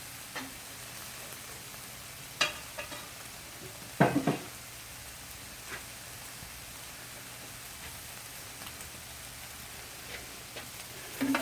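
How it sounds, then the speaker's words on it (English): Chopped vegetables for chicken fried rice sizzling and frying in a pan, with a few close clinks and scrapes of stirring over a steady, soft crackle. "I'm going to turn the veggies now."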